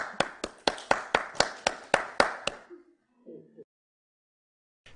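Applause from a single pair of hands, about ten crisp, evenly spaced claps up close that stop abruptly, followed by a brief murmur and then silence.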